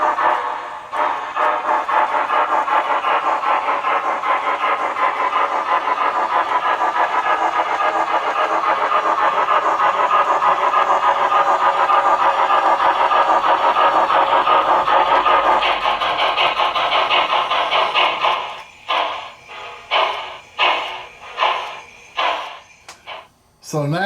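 An MTH GS-4 Proto 3 model steam locomotive pulling a Daylight passenger train, its sound system giving a steady loud mechanical hum that breaks into a run of distinct rhythmic chuffs near the end.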